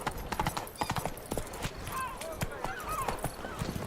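Roach, the horse from The Witcher 3, gallops with quick repeated hoof clops close by, mixed with a voice and faint background music throughout the short burst.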